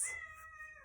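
A pet cat gives one faint, brief meow indoors, short and thin against a quiet background.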